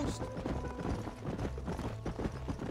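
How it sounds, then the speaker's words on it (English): Horse hooves clip-clop steadily and quickly while riding in the video game Red Dead Redemption, a dense, continuous patter of close hoofbeats throughout. "Please learn how to ride a horse."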